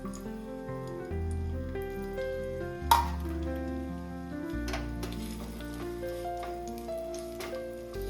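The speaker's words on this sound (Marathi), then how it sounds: "मातशें तळशीता बरें." Two large cloves of garlic and a little ginger fry in hot oil in a pan for prawn masala, giving a soft continuous sizzle with one sharp clatter, partly masked by background music.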